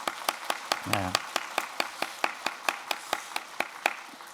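A church congregation claps rhythmically for the choir, a steady run of sharp, evenly spaced claps with a brief spoken word partway through.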